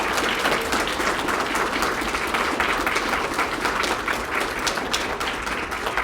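Steady audience applause for poetry students at a regional recitation finals, a full room clapping evenly and continuously at moderate volume.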